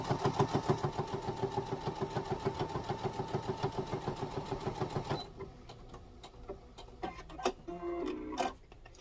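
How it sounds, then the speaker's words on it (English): A sewing machine stitches around the curved thumb of a fabric mitten, running close in a fast steady rhythm, then stopping for the pivot and resuming in short irregular bursts with clicks from the presser foot. "press your foot back down and sew"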